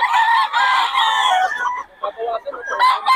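A rooster crows loudly and close by at a Bocaue market selling stags, with a long harmonic call followed by broken, clucking fowl sounds. Crowd noise sits faintly underneath.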